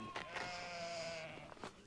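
A sheep with a wounded, maggot-infested leg bleats once, close and sustained, with a wavering drawn-out cry over a steady background hum.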